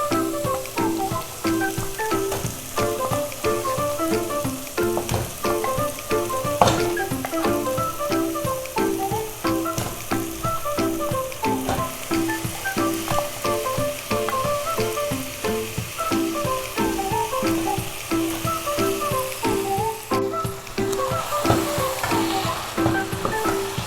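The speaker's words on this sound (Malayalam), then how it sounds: "ഒരു മീഡിയം ഫ്ലെയിമിൽ ഒരു 4-5 മിനിറ്റ് ചിക്കൻ ഇങ്ങനെ കുക്ക് ചെയ്തെടുക്കുക" Marinated chicken cooking with tomato in a pan over medium flame sizzles loudly and steadily, with bubbling crackle and stirring running throughout and no talk over it.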